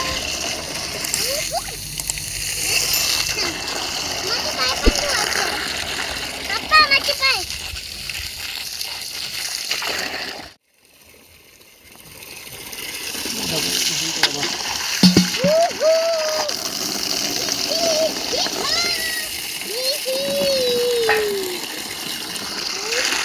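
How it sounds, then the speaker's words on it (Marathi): Water gushing and splashing into a bucket being filled outdoors in a village, loud and continuous with a brief break, while people talk and a voice rises over the splashing. "पाणी भरतोय"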